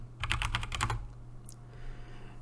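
Rapid clicking keystrokes on a computer keyboard as a chat command is typed into Discord, about eight quick close taps in a burst, then quiet room tone.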